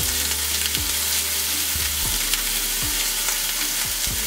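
Ginger, garlic, cumin and coriander pastes fry in hot oil, a steady dense sizzle running throughout with a few soft scrapes of a spoon against the pan.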